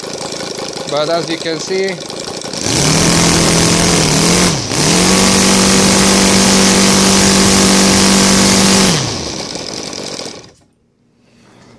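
ASP FS 400AR five-cylinder radial model aircraft engine, converted to gasoline with CH CDI ignition, roars loudly and steadily at high revs for about six seconds after a brief spoken remark, dips momentarily, then cuts out to near silence.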